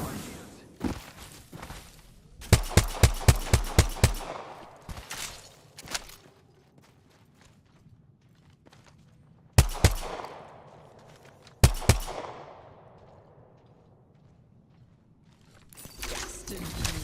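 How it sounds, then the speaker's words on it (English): Apex Legends gunfights, with sharp bursts of rapid automatic fire in clusters, single cracking shots and mechanical clicks between quieter gaps and footsteps, loud and close. "The enemies are shooting at me."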